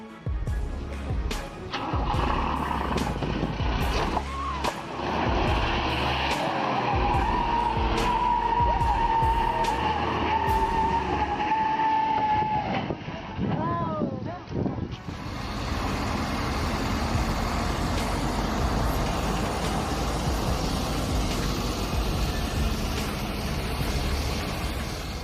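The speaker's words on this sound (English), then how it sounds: "The truck carrying a hefty load starts sliding dangerously backward." An oversize heavy truck hauling a 358-metric-ton stator slides backward, with loud tire skidding and squealing, engine roar and grinding, heavy mechanical strain that continues under constant noise.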